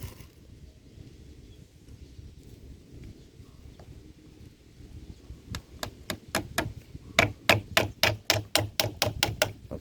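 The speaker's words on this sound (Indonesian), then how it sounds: "Ini dipaku supaya tidak lari." Nails are hammered into a gourami egg nest, quiet at first, then a run of sharp, evenly spaced hammer blows that grows louder and faster toward the end.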